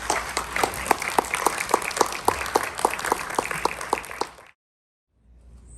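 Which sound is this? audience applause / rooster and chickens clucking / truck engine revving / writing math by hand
audience applause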